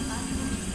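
A train passes at a station platform with a dense, steady roar and rail rumble filling the short moment, loud and close, with people talking faintly beneath it.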